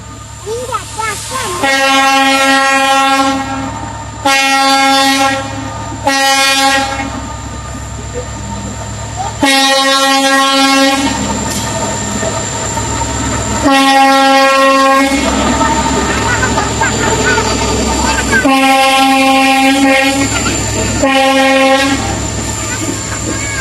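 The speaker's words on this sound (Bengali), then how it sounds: "ইন্ডিয়া থেকে ট্রেন আসতেছে" A train arriving from India at the Darshana border crossing in Bangladesh rumbles in loudly while its horn blares again and again in long, harmonic blasts separated by short gaps.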